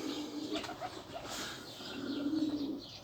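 Racing pigeons coo softly in a loft, with low throaty calls repeating over a steady background hiss and occasional faint chirps and wing rustles.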